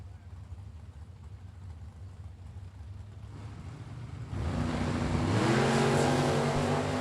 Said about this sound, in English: Kenny in the Camaro on the left-hand lane down in a 595, and Skylar the Oldsmobile down 592.